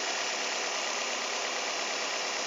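A 2005 first-generation Toyota Vios idling smoothly, a steady, even engine hum held close and loud with no speech.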